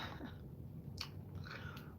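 Someone chewing nicotine gum close up, soft moist squishing chews with a couple of brief smacks, quiet, with no talk.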